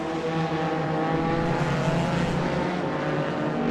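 Race cars at Spa Francorchamps in a multi-class racing video game sweep past a rough-looking BMW M6, with a steady, loud engine drone holding for the whole stretch and no pauses.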